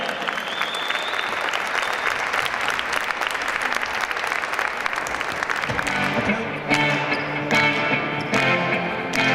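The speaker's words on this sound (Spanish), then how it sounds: "Fuerte los aplausos para Cauquenes con nosotros en esa hermosa tarde." Dense, steady studio audience applause on a Spanish-language TV variety show, honoring the town of Cauquenes, sustained throughout; later in the clip the clapping thins into sharper individual claps with music-like tones underneath.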